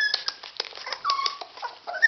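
A puppy whimpers and yips in a high, thin series of short whines, close and fairly loud, with no talk over it.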